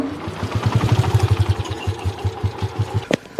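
A tractor engine chugs close by with a steady low-pitched rhythmic thump, the beat shifting slightly as it runs, with a couple of sharp clacks near the end.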